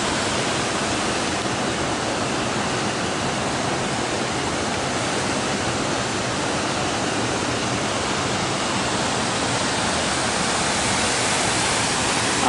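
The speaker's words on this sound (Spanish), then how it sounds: "Agua que baja de las montañas." Fresh mountain stream swollen by rain, rushing steadily near Potrerillos as a continuous, loud broadband wash of water with no pauses and no voices.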